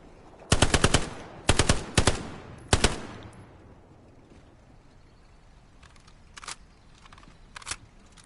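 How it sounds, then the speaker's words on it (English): Gunfire in the World War II shooter Hell Let Loose: several loud, close bursts of automatic fire in the first three seconds, then fainter, more distant single shots and short bursts over a quiet background. "Right now, I'm under fire."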